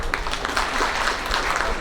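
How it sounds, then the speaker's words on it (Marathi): Audience applause at an honorary doctorate award ceremony, heard as dense, steady clapping from a crowd that carries evenly through the moment. "एकदा सरांसाठी खूप जोरात टाळ्या व्हायला पाहिजे"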